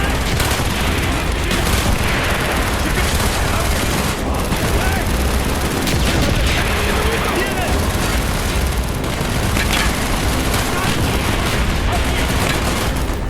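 World War II-era gunfire in the PC shooter Call of Duty Black Ops, as dense, continuous bursts of rifle and machine-gun fire with booming explosions, loud and unbroken throughout, with a voice talking over the combat.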